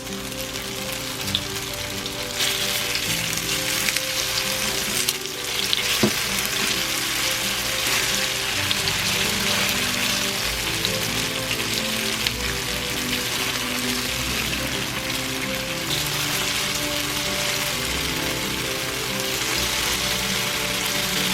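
Battered tofu vegan fried chicken pieces fry in hot oil, a dense, steady hiss and crackle like rain that runs continuously, with occasional soft knocks as the pieces are turned.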